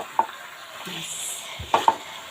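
Chicken leg roast being stirred in a pan, a few brief scrapes and taps of a spoon over a faint sizzle, close and quiet.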